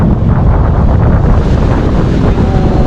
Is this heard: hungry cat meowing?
no